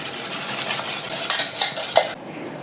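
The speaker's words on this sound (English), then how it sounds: "beat the eggs, inside a saucepan" Eggs being beaten with sugar in a saucepan, a steady close scraping whisk with a few sharper clinks against the pan near the end, no voices.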